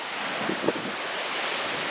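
Ocean waves and tide along the Oregon shore, a steady broad wash of surf mixed with wind buffeting, with a couple of faint brief knocks near the start.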